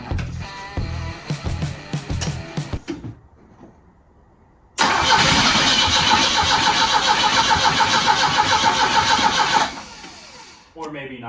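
An old Volvo car engine cranks in short bursts, goes quiet, then fires and runs loudly for several seconds before cutting out, with voices talking throughout.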